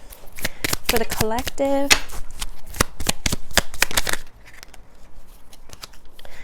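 Animal spirit oracle cards being shuffled, rapid crisp riffling and flicking bursts for several seconds, close and fairly loud, with a brief spoken phrase partway through.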